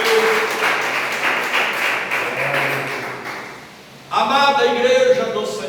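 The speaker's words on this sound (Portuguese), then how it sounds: "palmas de vitória e glórias ao nosso Deus" Congregation at a Pentecostal church service clapping in praise, a dense patter of hands that fades briefly, then a voice speaks over renewed clapping.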